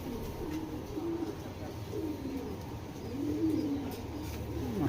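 A racer pigeon coos in repeated low rolling phrases close by, steady against a constant hum of background noise.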